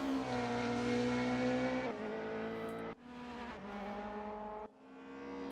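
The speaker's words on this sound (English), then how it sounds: "Roxanne Bartle pedaling the BMW around." A BMW race car lapping the Portimao Grand Prix circuit in a sim racing game, its engine a steady high droning whine that drops in pitch with sharp gear shifts, continuous and fairly quiet.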